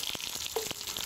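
Water runs into a small pot with peeled onions and a little salt for poaching, a brief hissing, bubbly pour close by with light splashes.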